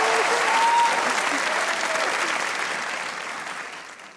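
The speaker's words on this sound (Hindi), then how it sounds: "जिनको लगता है आमिर भाई ने बेइंतहा बुरे बनाए वो तालियां बजाएं" A studio audience at an Eid comedy talk show claps in a dense burst of applause that starts loud and slowly fades over a few seconds, with no voices over it.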